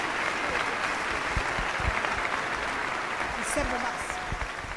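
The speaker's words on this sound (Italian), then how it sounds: "Glielo facciamo un altro applauso" Theatre audience at the Teatro Civico in Alghero gives a dense, continuous round of applause, a steady wash of many hands close and loud, with a voice speaking briefly over it.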